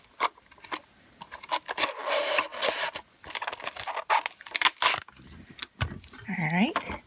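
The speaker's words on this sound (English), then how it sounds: "So I'm going to run this through my sticker machine." A paper strip run through a tabletop sticker machine that applies an adhesive backing, giving uneven scraping, rustling and clicking bursts with brief pauses, then a squeaky rising and falling whine near the end.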